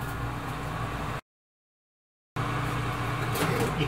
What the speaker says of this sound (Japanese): 電子レンジ600ワットで2分加熱します。